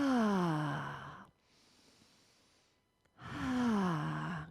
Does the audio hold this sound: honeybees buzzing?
no